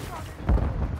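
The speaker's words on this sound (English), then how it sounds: "Our mortar strike is inbound." A single deep mortar explosion booms midway through a Call of Duty: Modern Warfare match, a brief low-frequency blast over steady game noise and faint voice chatter.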